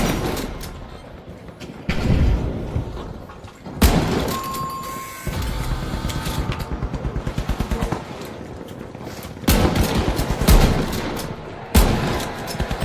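Slow, heavy gunfire from a weapon in The Finals, with a handful of loud separate blasts spaced seconds apart amid game noise, each shot booming like a grenade launcher.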